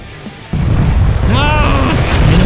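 A sudden loud fireworks explosion in the video game Fireworks Mania bursts in and rumbles on, with game sound effects and a voice over the sustained roar.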